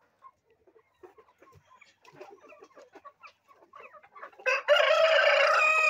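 Improved kienyeji chickens cluck and mutter quietly at first, then a rooster lets out a loud, close, drawn-out crow that continues to the end.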